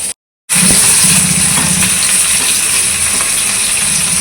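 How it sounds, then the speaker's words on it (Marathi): Chillies sizzling in hot oil for tempering, a loud continuous hiss with scattered crackles and pops, close and steady after a brief silent gap at the start. "आता ही तेलामध्ये मिरचीची फोडणी देत आहेत"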